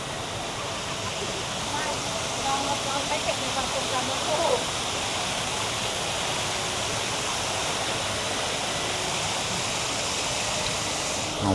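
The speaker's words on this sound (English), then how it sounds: "here all the beautiful waterfalls going" Waterfalls in a rooftop garden in Bangkok rush in a steady, even wash of falling water, close and constant, with faint voices underneath.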